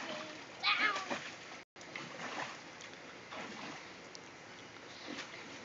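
Water splashing in a backyard swimming pool, with scattered splats and sloshes at moderate distance, one brief burst early on, under a child's chatter and an adult voice.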